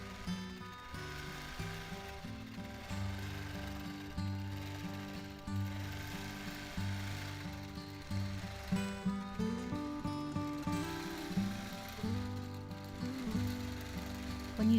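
A sewing machine doing free motion quilting on a Mod Boxes pattern quilt hums and chatters steadily nearby, its needle rhythm shifting in speed and pitch as the stitching speeds up and slows down.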